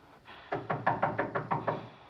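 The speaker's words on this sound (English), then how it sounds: "Then, a knock at the door has us noticing the background." Knocking on a door in a 1941 film scene: a faint rustle, then six evenly spaced, fairly loud raps with a steady rhythm, close and alone with no talk.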